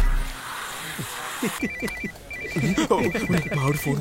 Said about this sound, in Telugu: నా వైఫ్ ఫోన్ అన్న. ఫోన్ చేసింది